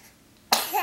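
A single sudden, close, explosive sneeze bursts out after a brief quiet moment and ends with a short voiced tail.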